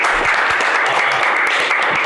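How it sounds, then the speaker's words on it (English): An audience gives a round of applause for panel speakers at a community conversation event. The clapping is continuous and fairly loud, filling the whole short stretch without any speech. "Let's give them one more round of applause."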